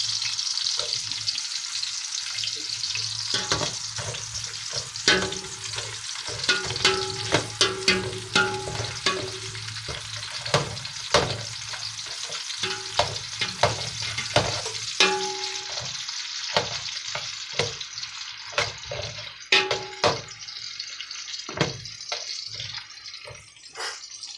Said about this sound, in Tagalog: Bigay po natin ating sibuyas.